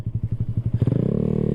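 A Honda Grom motorcycle with springs fitted to its exhaust, heard close up as a steady series of low thumping idle pulses that quicken into a faster, smoother rev toward the end.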